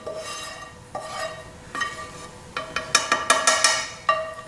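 A spoon scrapes and knocks around a pot of vegan chilli quinoa, a string of clinks quickening toward the end amid a faint sizzle.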